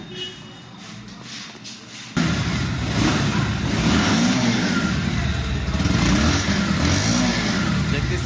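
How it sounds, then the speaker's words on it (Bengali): A second-hand Bajaj Pulsar motorcycle in good condition starts up after a quiet moment, then its engine runs loud and steady close by, with faint voices in the background. "বাইকের সাউন্ড কিন্তু একদম ফার্স্ট ক্লাস"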